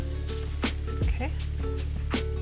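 A Norwegian pancake cooks in a pan after being flipped, giving a soft, steady sizzle close by with a few light scrapes and clinks from a utensil.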